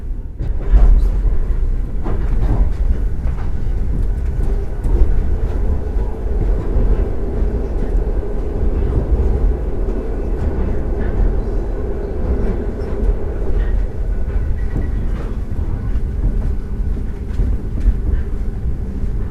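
Trans-Siberian railway train rolling along the tracks in a continuous loud rumble, with faint rhythmic clicks from the wheels running steadily throughout, heard from inside the carriage.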